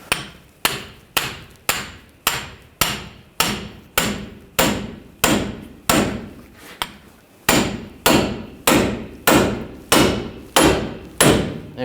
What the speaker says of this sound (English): We're going to separate the ball joint from the knuckle. We're going to use a pickle fork.